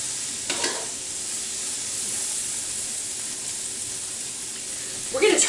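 Pork and fried rice stir-frying in a pan, a steady sizzle with two brief bursts of stirring, one early and a louder one at the end.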